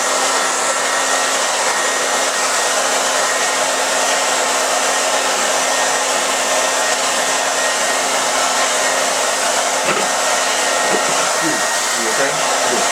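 A hair dryer blows continuously and loud for the whole stretch, a steady whooshing roar while freshly shampooed and conditioned hair is blown out for braiding, with a few faint handling knocks near the end.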